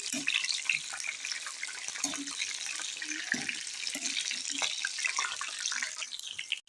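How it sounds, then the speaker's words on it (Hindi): Green chilies fry in hot oil with a steady, close, broadband sizzle that carries evenly through the whole stretch, with small pops and kitchen clatter showing now and then. "तो इस हरी मिर्च को इसमें शामिल करेंगे, इसको फ्राई करेंगे।"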